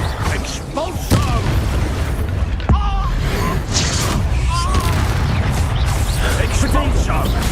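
The Expulso explosion spell going off in the video game Hogwarts Legacy, heavy booms and blasts in a dense, loud stretch of combat noise with a voice speaking over it.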